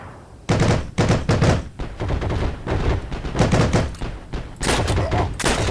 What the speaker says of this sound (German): Sie schießen, auf was denn?